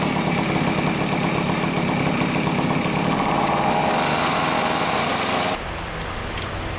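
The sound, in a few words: Garelli VIP moped engine idling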